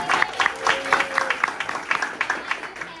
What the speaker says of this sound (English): please give a round of applause for Laurice Marier, our show producer.